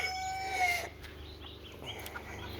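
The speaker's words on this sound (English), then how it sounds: "I might have to move that little cuckoo rooster in. He almost looks like he's starting to crow." A young cuckoo-coloured bantam rooster, kept among show chickens such as Buff Orpington and Pekin hens, gives a short, thin, high crow that ends abruptly, followed by quiet farmyard background.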